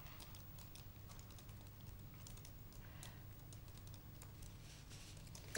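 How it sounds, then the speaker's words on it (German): Fingers typing on a computer keyboard, a steady patter of quiet key clicks against a low background hum, faint and continuous. "während die Orchide noch tippt und abschickt"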